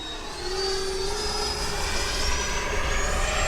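An FMS Integral 80mm EDF RC jet flies at under half throttle, its ducted fan giving a steady, airy whine with a rising tone over a broad rushing roar, sustained and fairly close after a quick onset.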